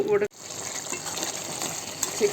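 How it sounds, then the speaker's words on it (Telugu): Water poured from a glass into simmering chicken gravy, giving a steady close gushing splash that runs for about two seconds after a short clatter. "ఇప్పుడు కొద్దిగా నీళ్ళు, ఒక 1/4 గ్లాస్ చాలు"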